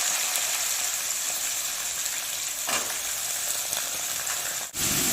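Dried red chillies sizzle and fry steadily in hot oil for a mango pickle, a continuous close crackling hiss with no talk.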